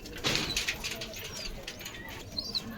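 Pigeons shifting about in a coop, a large one and a small one, with soft bursts of wing flapping, light scuffling and faint coos, quiet and close.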